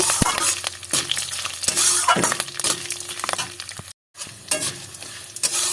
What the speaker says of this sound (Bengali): এবার এটাকে দিয়ে ভালো করে সব কিছু সব উপকরণ একসঙ্গে ভালো করে ভেজে নেব